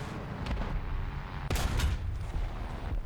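A tank cannon fires in a War Thunder battle, knocking out a light tank with a single shot; one sharp, loud blast stands out over a steady rumble of engine and battlefield noise, with a fainter thump just before it.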